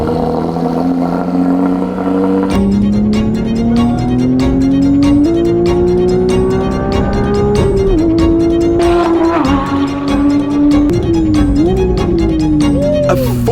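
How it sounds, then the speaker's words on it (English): Rebuilt Porsche GT3 on a track, the engine note climbing steadily through the revs with brief dips at gear changes, loud and close from inside the car, over a dense rattling rush of road and mechanical noise. "now it's time to test out the GT3 I've just rebuilt"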